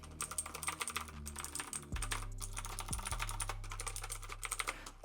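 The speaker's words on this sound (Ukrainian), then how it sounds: "Прикольно клікає. Стандартні сині свічі." Rapid clicky keystrokes from an AULA mechanical keyboard with blue switches patter closely in an uneven stream, with a few heavier key thumps, and no talk over them.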